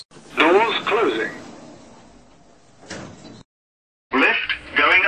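Lift doors on a KONE Ecodisc elevator in a Roblox game slide shut with a short mechanical whoosh and thud, following an automated announcement voice, then a brief silence before the voice speaks again.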